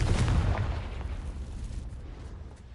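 A Confringo spell explodes in the video game Hogwarts Legacy, a deep booming blast at the start that decays into a long low rumbling tail; no talk.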